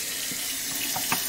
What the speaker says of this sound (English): you gotta run your baby bath water